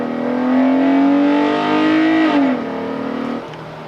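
A 2015 Jeep Grand Cherokee fitted with a K&N cold air intake revs up loudly and holds a throaty drone, then dips and settles to a lower idle as the engine note falls away.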